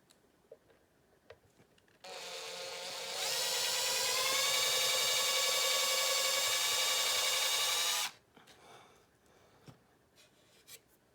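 A power drill whirs while pre-drilling small screw holes. It starts at a lower pitch, then rises into a steady high-pitched run for about six seconds before stopping. Quiet background clicks and handling sounds surround it.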